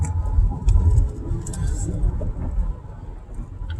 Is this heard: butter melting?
no